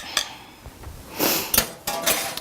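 A utensil stirs beaten egg yolk and buttermilk in a bowl for Irish soda bread, giving soft wet swishing strokes and a few light clinks against the bowl, close and brief, with no talking.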